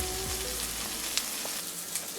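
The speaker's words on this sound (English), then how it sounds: "Listen to them sizzle away." Large turkey burger patties sizzle in a frying pan, a steady, dense crackling hiss heard close up with small pops scattered through it and no talking.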